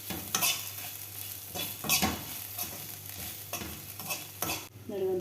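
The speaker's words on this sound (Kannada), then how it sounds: "ಎಲ್ಲ ಮಿಕ್ಸ್ ಮಾಡ್ಕೊಳ್ಳೋಣ." Okra masala with salt being stirred in a pan, the spoon scraping in repeated bursts over a steady sizzle of frying, close and alone.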